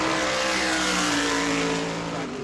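A NASCAR Whelen Modified race car runs a qualifying lap at New Smyrna, its engine a loud, sustained high-pitched roar with a steady tone that holds and then eases slightly as it passes.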